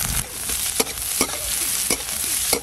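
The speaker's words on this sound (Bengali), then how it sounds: "তাহলে আমি তেলে পেঁয়াজ কুচি দিয়ে দিচ্ছি।" Chopped onions fry in hot oil with a steady broadband sizzle, broken about every half second by sharp scraping stirs of a spatula in the pan, close and continuous with no talk.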